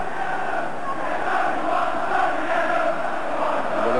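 Arsenal fans at a 1989 First Division deciding match against Liverpool chant "there's only one Tony Adams", a dense, steady roar of massed voices filling the stadium.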